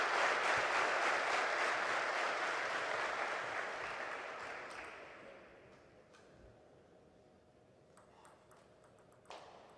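Crowd applause fills the arena at a WTT Zagreb 2023 men's singles table tennis final, loud at first and slowly fading over several seconds, with a late sharp ping near the end.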